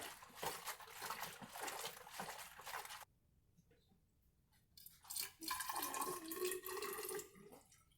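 Mead splashes and pours into a hydrometer tube on brewing day, a close liquid gush that stops abruptly, then after a short pause resumes as gurgling pouring and overflow trickle.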